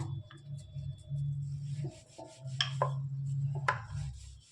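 A rolling pin rolls corn puri dough on an oiled board, soft repeated rubbing strokes in a steady back-and-forth rhythm, close and quiet, with a few light knocks.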